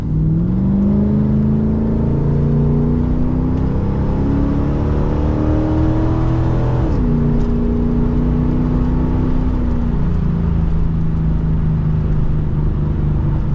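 A 1980s Corvette with an automatic transmission drones steadily from inside the car, its engine tone climbing, dropping abruptly as it shifts gear midway, then humming on evenly.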